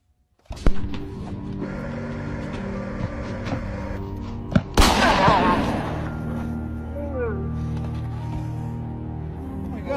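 Loud, sharp bangs like gunshots: one burst early on and a stronger blast midway that trails into a rumbling decay, mixed with background music and talking voices.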